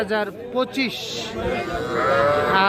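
Calves moo in a cattle market at Aftabganj, a busy livestock fair where young bulls and heifer calves are sold; several drawn-out moos rise over constant crowd chatter and voices nearby.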